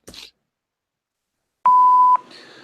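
A voicemail playback beep sounds once, a loud steady half-second electronic tone that cuts in after near silence and leads into a faint hiss.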